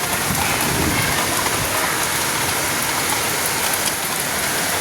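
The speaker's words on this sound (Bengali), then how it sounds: "করতে করতে বৃষ্টিটা নামলো" Steady, heavy rain pours down outdoors, a dense unbroken hiss of drops striking surfaces that stays loud and even throughout.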